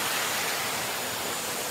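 Steady broadband rush of a waterfall pouring into clear water, with stream flow over visible rocks, continuous and fairly loud throughout with no voices.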